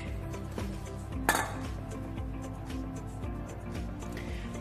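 Choux pastry dough for a Paris-Brest being stirred in a saucepan over heat to dry it out, a dense run of scraping and clinking utensil sounds against the pan, with one sharper knock early on.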